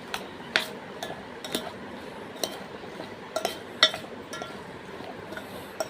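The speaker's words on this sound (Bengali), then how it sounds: "আমি এটা ভালো করে একটু মাখিয়ে নেব।" Spoon clinking against a bowl while mango pickle is mixed with spices, a series of sharp, irregular metallic taps over a faint background, close and fairly quiet, no voices.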